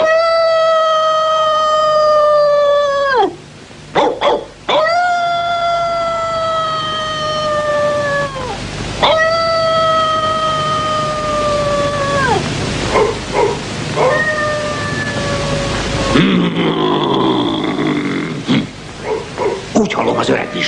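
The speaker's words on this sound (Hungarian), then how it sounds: "Úgy hallom, az öreg visla. Riadót fúj." An old vizsla in an animated 101 Dalmatians film gives loud, drawn-out howling barks in a series of long calls with short gaps, ending in rougher noise.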